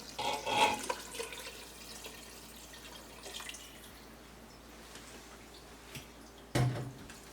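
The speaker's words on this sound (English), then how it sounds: "Gonna refill the jar with water here and add 1 quart of water as well." Water pours into a jar in a home kitchen during soup-making, heard as a few short splashing bursts of filling and dripping against quiet room tone, with a sharper clunk near the end.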